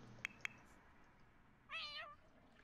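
In The Sims 4 game, two quick clicks are followed by one clear, brief cat meow, soft and alone over faint background noise.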